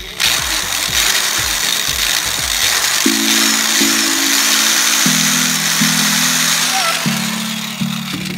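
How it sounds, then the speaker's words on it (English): A small power drill whirs continuously while boring a hole through a fishing bead, its motor pitch stepping up and down as it bites, with a faint hiss of grinding underneath and no one talking. "Drill a hole very slowly to it until you get a good grip and then go all the way through."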